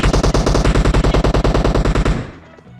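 Rapid automatic gunfire in the battle-royale game PUBG Mobile, a loud, close, evenly spaced burst of about twenty shots over two seconds that stops abruptly and leaves a short fading tail.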